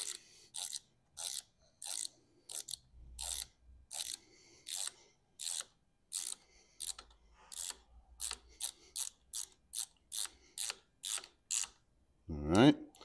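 Ratchet clicking while tightening a bolt during assembly of a Sur Ron Ultra Bee electric bike, a series of short sharp bursts in an irregular rhythm with brief pauses, close and fairly quiet, ending with a faint low knock.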